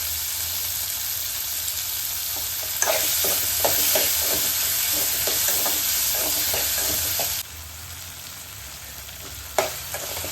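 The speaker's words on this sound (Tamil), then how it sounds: "போட்ட தக்காளி நல்லா வதங்கிச்சுப்பா" Chopped tomatoes and onions sautéing in a pan for wheat rava upma, a constant close sizzle with repeated scraping stir strokes and a spatula knock near the end.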